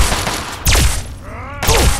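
An overpowered gun fires in Fallout 3, loud sharp blasts: a rapid volley at the start, then two heavy booming shots separated by a brief pause.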